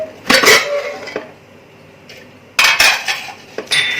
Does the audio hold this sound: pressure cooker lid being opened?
yes